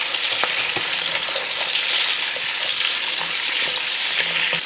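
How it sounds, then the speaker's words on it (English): Onions and chilies fry in hot oil while being stirred, a loud, dense, continuous sizzle close up, with scattered light scraping clicks from the stirring and no voices. "I'm going to go ahead and add my onions into the oil, along with a nice pinch of salt. And give those a stir."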